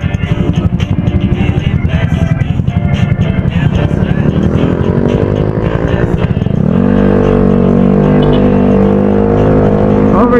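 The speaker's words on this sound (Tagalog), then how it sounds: "Ingay itong motor eh" Engine of a Yamaha Mio scooter ridden on a road around sunset, a loud continuous buzzing drone that steadies into a smoother tone partway through, with wind noise and occasional talk underneath.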